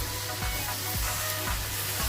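Bottle gourd curry with shrimp is stirred in a pan: a spatula scrapes in four evenly spaced strokes, about every half second, over a soft, steady sizzle.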